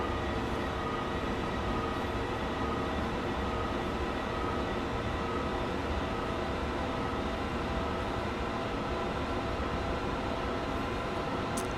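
A Long Island Rail Road commuter train runs in Train Sim World 2020, a continuous steady rumble of wheels and traction motors with a dense, even rolling noise and no voices.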